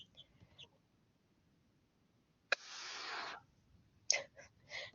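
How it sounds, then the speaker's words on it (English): Chicken clucking in short bursts, a brief squawk and flurry followed by a few quick clucks, fairly close against a quiet background. "My chicken just ran away because it gave her a fright"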